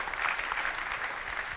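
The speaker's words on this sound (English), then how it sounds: "give a warm round of applause" Audience applause at a web-components design-system conference talk, a steady even wash of many hands clapping throughout, fairly soft and slightly distant.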